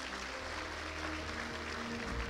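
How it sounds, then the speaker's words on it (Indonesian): An audience at an Indonesian success seminar applauds a business owner, a steady dense wash of clapping that holds evenly throughout at moderate distance, with a low hum beneath. "Tepuk tangan untuk beliau."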